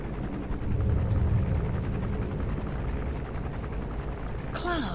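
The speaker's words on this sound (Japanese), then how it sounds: "ヘリが来てる。" Enemy helicopter in the video game Metal Gear Solid V, a steady loud rotor drone filling the whole stretch, with faint voice sounds partly over it.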